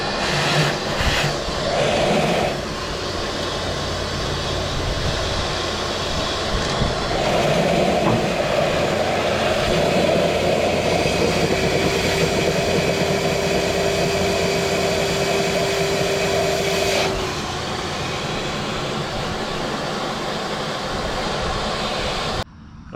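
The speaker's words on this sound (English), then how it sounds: "I'm going to get a vacuum over here, I think, and try to vacuum this stuff out" A shop vacuum cleaning debris out of a 1938 Dodge engine being revived after 40 years, a loud, steady roaring whine that runs continuously with slight shifts in pitch as the nozzle moves.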